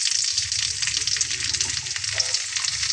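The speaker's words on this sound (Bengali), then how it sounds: "তেলটা গরম হয়ে গেলে তার ভেতরে আমি সামান্য একটু হলুদ দিয়ে নেব এবং দিয়ে নেব সামান্য একটু লবণ" Turmeric and salt sizzle in hot mustard oil with a steady, crackling hiss and fine spattering pops throughout, close and fairly quiet, with no talking.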